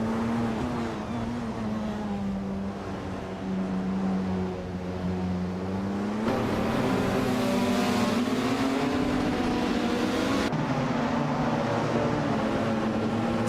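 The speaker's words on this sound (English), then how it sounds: "Athena CNC is driving a 2016 A-03 Nissan in the LMP3 class." LMP3 race cars, including a 2016 Nissan A-03, race in a video game: a loud, sustained engine drone rising and falling in pitch through gear changes, steady and close with no talk.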